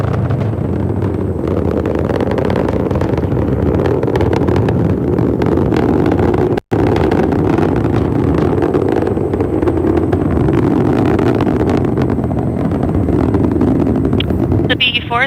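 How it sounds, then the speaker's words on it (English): A ULA Vulcan Centaur rocket with BE-4 engines and solid boosters climbs in ascent, its broad, rough roar rumbling continuously and loudly with wind buffeting while a commentator talks over it. "The BE4 is now throttling down in preparation for SRB burnout."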